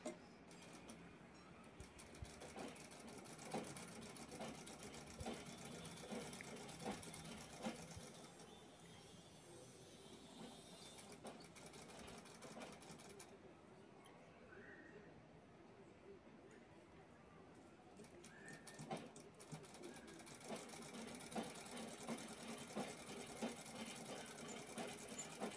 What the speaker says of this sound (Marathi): जिथे जॉइंट आहे तो जोडून घ्यायचा आहे आणि सरळ शिलाई घ्यायची आहे त्यावर